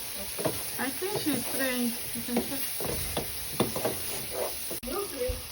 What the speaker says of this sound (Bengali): ভাজা হয়ে গেছে চিংড়িগুলা এখন